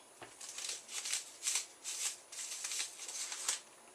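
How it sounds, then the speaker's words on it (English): Baking paper and a metal tray handled for gingerbread cookies: a run of soft, crisp rustles and crinkles in repeated bursts, close and quiet. "you're going to need, if I can bring it over, some baking paper and a tray"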